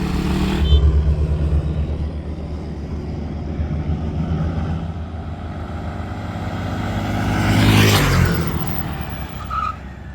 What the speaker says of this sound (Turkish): Şimdi drag yarışı yapacağız siz görün diye.